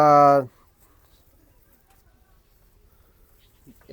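A single short, loud, throaty coo from a pigeon, then near silence with faint rustling and a soft sound at the very end.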